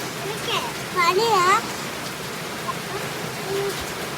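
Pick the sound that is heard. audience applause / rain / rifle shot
rain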